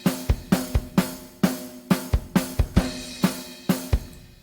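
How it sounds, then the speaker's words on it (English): Motown drum groove from Superior Drummer software, a steady mid-tempo pattern of punchy kick and snare hits with ringing cymbal wash, loud and clean with no voices. "So that's fairly standard Motown groove"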